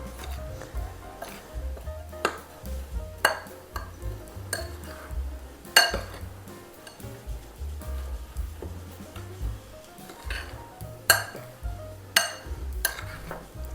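Shortbread crumble ingredients mixed in a bowl, with repeated light clinks and scrapes of a utensil against the bowl sounding close and steady, with no talking.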